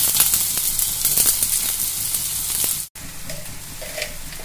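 Capsicum, chopped ginger and tomato sizzle loudly in hot white oil in a pan, a steady dense crackle with a brief cut before the frying noise resumes.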